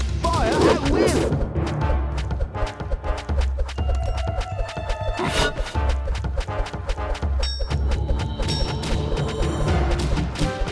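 Musketeer towers in the Kingdom Rush tower defense game fire a dense run of sharp gunshot cracks and thuds, mixed with game music and battle effects.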